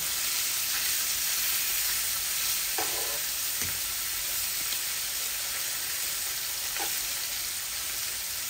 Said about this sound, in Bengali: এই যে আমার মাছটা হাফ কুক হয়ে গেছে, হাফ ভাজি হয়ে গেছে।